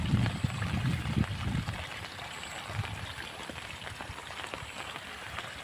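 Steady rain falls across rice paddies as a storm rolls in, a continuous hiss of drops on water and leaves with low wind rumble, heavier at first and then settling into an even patter.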